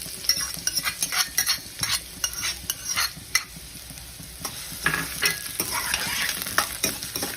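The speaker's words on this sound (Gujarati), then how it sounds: "હવે તેલની અંદર આપણે ડુંગળીને એડ કરી દઈશું, ડુંગળીને સાંતળી લઈશું।" Chopped onion sautés in a small amount of oil in a kadai, giving a steady close sizzle broken by repeated scraping stirs and light clinks of a spoon against the pan.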